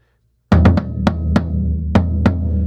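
A floor tom booms with a low, sustained ring, hit several times at uneven intervals with short sharp attacks, close and loud; pitched higher than a 16-inch floor tom.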